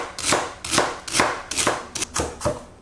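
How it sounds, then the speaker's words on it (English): Knife chopping celery on a cutting board, about seven crisp, evenly spaced thuds, close and clear with no talk over them. "Let's chop celery first"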